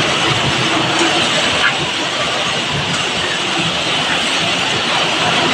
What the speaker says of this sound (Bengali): দেখেন এই যে মেশিন দিয়ে এভাবে একটা করে পাট নামতেছে সোয়েটার